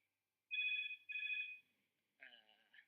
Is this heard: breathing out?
no